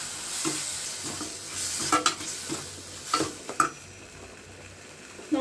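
Food fries in a pan with a steady soft sizzle, punctuated by several sharp scraping and clinking stirring strokes, close up and moderately quiet.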